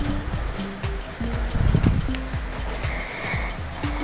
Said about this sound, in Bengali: গ্রেভিটা ফুটে উঠেছে